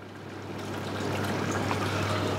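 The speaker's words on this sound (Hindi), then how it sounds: "और गैस को हम करेंगे कम और हल्का सा पानी मैं इसमें डालूंगा" Water poured into mutton cooking in a pot on a lowered gas flame, a soft steady trickling rush rising gently in level, close and alone with no talk.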